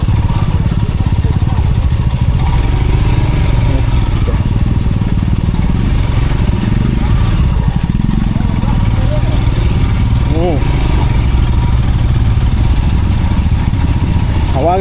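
Motorcycle ride through a rain-soaked monsoon forest near Agumbe: a steady, loud engine drone with clattering and wind noise runs throughout, while the rider talks over it.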